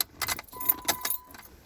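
A bunch of car keys for a 2014 Jeep Compass jangles in a few quick bursts close by, with a soft electronic tone running faintly beneath.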